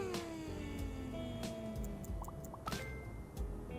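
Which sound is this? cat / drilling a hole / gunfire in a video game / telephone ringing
cat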